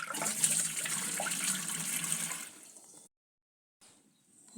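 Liquid fertilizer solution pours steadily into a watering can for about three seconds, a hissing rush of water that then stops, followed by silence and a faint resumption.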